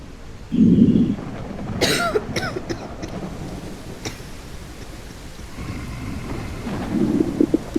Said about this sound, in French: Arrête de me tousser dessus là!